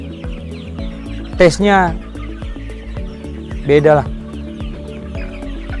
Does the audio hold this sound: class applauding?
no